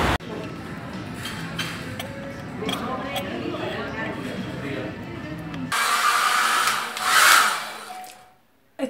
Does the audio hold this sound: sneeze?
no